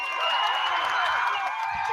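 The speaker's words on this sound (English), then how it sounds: "Listen to the crowd, huh?" Crowd noise at a youth football game, Griswold versus Colchester in the junior division: a steady wash of cheering voices from the stands, fairly loud and continuous, with no distinct words.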